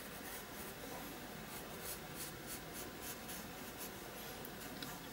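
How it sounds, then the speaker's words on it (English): A pencil drawing on paper, steady close scratching and rubbing strokes with rhythmic short swipes, quiet and continuous for the whole stretch. "just finessing them a little bit with your pencil."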